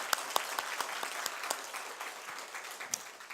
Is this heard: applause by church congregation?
yes